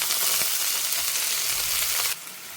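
Onions, green chillies and beans sautéing in a pan for beans thoran, a steady close sizzle with light stirring scrapes that drops abruptly to a softer sizzle near the end.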